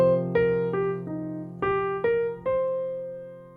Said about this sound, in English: our descending ascending arpeggio will sound like